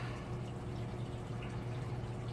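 Steady background water from aquarium fish tanks, soft trickling and dripping over a low constant hum, quiet and unbroken with nobody speaking.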